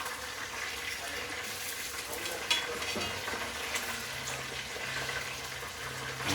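Chicken browns in a pot for arroz con pollo, giving off a steady, close sizzle and crackle of frying with faint clinks and a low hum underneath, unbroken throughout.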